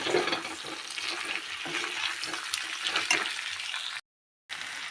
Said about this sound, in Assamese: আৰু ইয়াতে আদা, নহৰু, ৰচুন আৰু ধনিয়াৰ পেষ্টটো দি দিম।